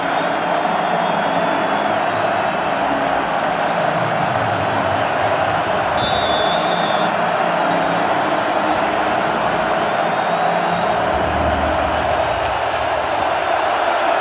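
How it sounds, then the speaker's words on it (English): Large NFL playoff stadium crowd at a 49ers versus Seahawks game swelling into a loud, sustained roar, a dense wash of massed voices that stays high throughout with a commentator's voice faintly threaded underneath. "Crowd getting loud."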